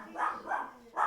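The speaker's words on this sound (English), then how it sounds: "Sorry for the dog barking." A dog barks nearby indoors, three quick muffled woofs in a row with short pauses between them.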